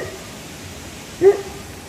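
A single short bark or yip rings out from a dog somewhere off in the distance, brief and moderately loud against steady background noise.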